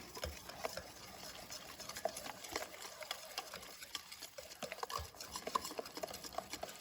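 Buttermilk waffle batter being stirred in a bowl, a soft, continuous scraping and sloshing with small clicks of the utensil, fairly quiet and close, with no talk.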